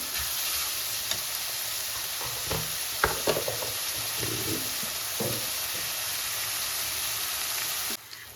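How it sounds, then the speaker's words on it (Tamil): Onions sautéing in a pan make a constant close hiss and sizzle, broken by a few soft stirring scrapes and clatters, with no talking. "வெங்காயம் நல்லா வதங்கிக்கிட்டு இருக்குங்க"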